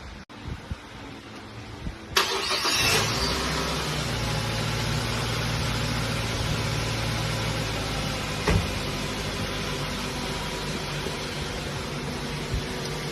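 A 2008 Mazda 3 engine cranks and catches after about two seconds, then settles into a steady, loud, close idle with a fan-like hum and a small bump midway.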